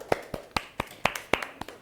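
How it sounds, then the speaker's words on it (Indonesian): Sparse claps from a small group of classmates in a biology class, about eight sharp separate hits spread unevenly over two seconds, fairly close and moderately loud. "Tepuk tangan teman-teman."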